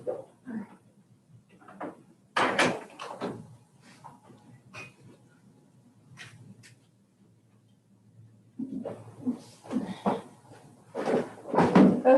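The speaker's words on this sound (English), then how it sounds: "close the door." A door closes in a meeting room with a firm knock-like thud, followed by several more clicks and bumps amid quiet talk from people nearby.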